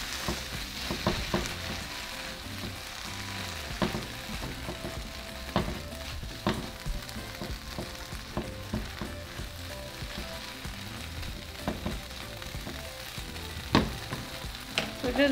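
Smashed beans mixed with jalapeno juice and chopped jalapeno fry in a pan, a continuous soft sizzle broken by scattered scraping stirs and clicks, close and fairly quiet, with no speech.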